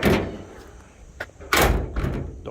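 A 1955 Chevy gasser's car door slams shut with a heavy thud near the middle, after a softer earlier knock and a few lighter clicks and taps, close and distinct in a quiet space.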